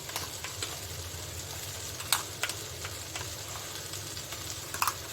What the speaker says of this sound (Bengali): এখন আমি দিয়ে দিচ্ছি ওই যে যে মশলাটা করেছিলাম ওই মশলাটা আমি এখন দিয়ে দিচ্ছি